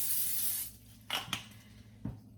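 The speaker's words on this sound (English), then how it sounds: "I use Pam olive oil spray, and I spray all the chicken" A long, steady aerosol hiss of olive oil cooking spray onto raw chicken, followed by a few short soft crackles and taps nearby.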